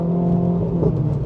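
A Renaultsport Clio 197 F1 engine with a Scorpion exhaust revs hard under acceleration in third gear, a steady close drone that holds throughout without pause.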